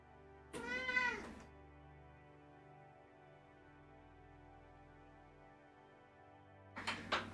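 A pet cat lets out a loud, drawn-out meow nearby, then after a long quiet stretch starts another yowling meow; no talk.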